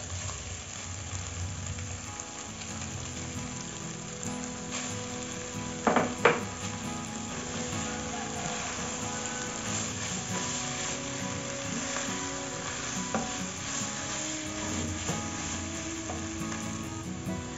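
Crumbled tofu and chicken stir-fried together in a pan give a steady, close sizzle throughout, with a couple of sharp utensil clinks against the pan near the middle.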